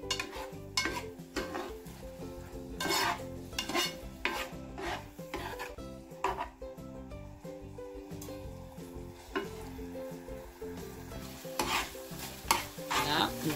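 Sauce is stirred in a pan with repeated close scraping and rubbing strokes and a faint sizzle, under background music.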